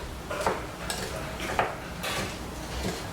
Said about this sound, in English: I'm going to mix this up real quick